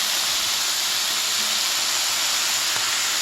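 Steady broadband hiss of spicy chicken stir fry sizzling in a hot frying pan, continuous and fairly loud with no talking.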